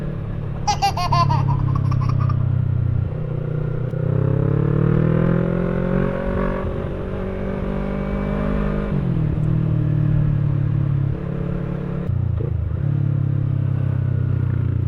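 A 2018 Yamaha R3 V1 300cc sport bike on a test ride near Tamaraw Falls in Puerto Galera, its engine droning loudly and steadily, then a rising rev blip as it rev-matches a downshift, with a brief higher whine near the start.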